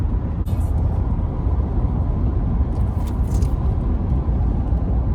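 Inside a car cruising east on Interstate 64 across Virginia, a constant low road rumble and engine drone fill the cabin. A couple of brief high rattles poke through the steady noise.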